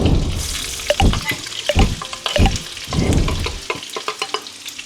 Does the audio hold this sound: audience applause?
no